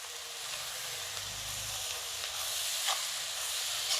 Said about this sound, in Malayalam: ചെറിയുള്ളി നന്നായിട്ടൊന്ന് വഴന്നോട്ടെ